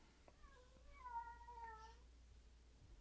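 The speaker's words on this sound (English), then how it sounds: "I hear the cat is back" A cat meows once from the distance in a quiet room, one drawn-out, faint call with a wavering pitch and no voices.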